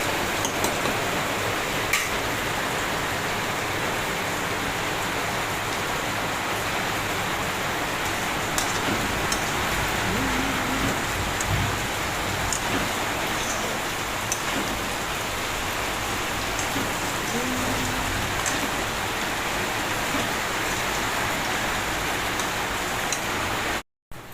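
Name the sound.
heavy rain falling in a village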